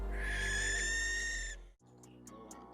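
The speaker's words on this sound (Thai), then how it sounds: "แต่จู่ๆก็มีเสียงนกแสกร้องลั่นขึ้นมา" A barn owl gives one loud, harsh, sustained screech lasting over a second and a half, followed by quieter scattered sounds.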